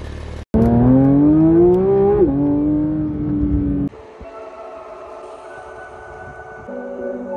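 A Shark Blue 2022 Porsche 992 GT3 sports car revs loud and close, its engine note climbing in pitch, dipping briefly, then settling into a lower, steadier drone.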